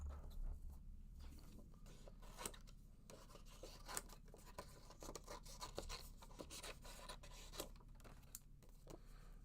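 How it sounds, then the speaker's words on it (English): Scissors cut out paper cards with quiet, irregular snipping and rubbing sounds and occasional sharper clicks, close but faint, continuous over several seconds. "let me grab a pair of scissors here."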